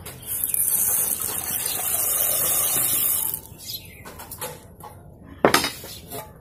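Chana dal tipped into a pot of water, a sustained hissing pour that ends in scattered clinks and clatters of metal vessels and a sharp knock near the end.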